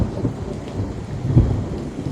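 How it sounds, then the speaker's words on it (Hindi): Thunder from a lightning strike in heavy rain, a deep rolling rumble with a louder crack near the middle over a steady wash of rainfall, heard alone. "बिजली की एक मोटी लहर जमीन से टकराई और पास का एक पेड़ जल उठा।"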